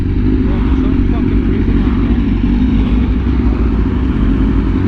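A Honda Fireblade RR-R SP fitted with an SC Project exhaust, running at speed. Its engine gives a steady, loud, dense roar with heavy wind rush that lasts the whole stretch without a break.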